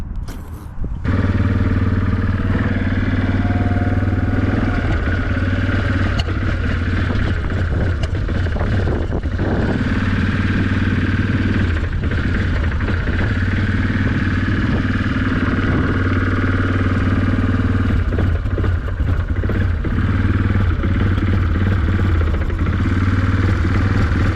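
A Kodiak engine bogs down under throttle, a loud, rough, sustained low drone with uneven surges and clattering mechanical noise throughout, close to the microphone.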